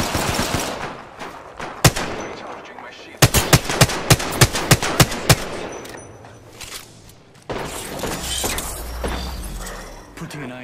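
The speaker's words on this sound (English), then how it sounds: "I'm taking fire." Bursts of gunfire in Apex Legends, single sharp shots then a rapid string of loud cracks, followed by dense mixed game noise and hits, with voice chatter from players running over the action.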